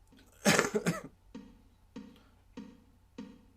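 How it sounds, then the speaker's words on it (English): One hard, close cough is followed by four lighter coughs at a steady, even spacing. No speech. "Man, this cough needs to go away."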